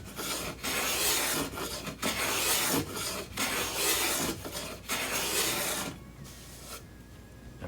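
Veritas No. 1 bevel-up bench plane takes very fine shavings from wood, giving a series of rhythmic rasping strokes with short pauses between them, close and dry, and no voices.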